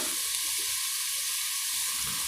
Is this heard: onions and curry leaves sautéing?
yes